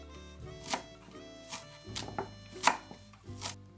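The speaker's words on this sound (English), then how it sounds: "cut into chunks 1 green chili, 1 onion, 20 grams of parsley" Green chili, onion and parsley being cut into chunks with a knife on a board, about eight crisp chops in an uneven rhythm, close and clear with no talking.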